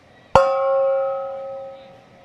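A single metallic strike rings out like a gong, sharp at first and then sustaining a bright, humming tone that fades slowly over about two seconds.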